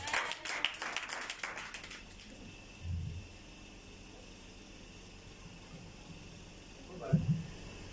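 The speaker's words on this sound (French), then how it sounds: "Ok, acclamons le Seigneur pour le faire." A church congregation claps and cheers in a burst of quick, overlapping hand claps for the first couple of seconds, then fades to a low murmur with a few faint voices and scattered sounds.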